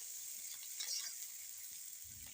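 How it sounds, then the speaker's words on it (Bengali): A spiced egg omelette curry with chili powder sizzles steadily in a hot pan as it is stirred and sautéed, a close, even frying hiss with a soft scrape near the end and no talk. "এবার ভালো করে মিশিয়ে নাড়াচাড়া করে ভালো করে একটু কষিয়ে নিচ্ছি।"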